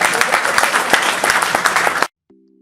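Loud, close audience applause at a comedy performance, dense clapping that stops abruptly, followed by a brief low tone after a short silence.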